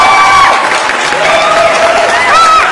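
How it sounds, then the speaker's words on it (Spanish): Crowd cheering, applause and whoops at a circus show, a loud, dense ovation filling the whole stretch with higher shouts rising above it. "¡Ay, qué ovación, qué ovación!"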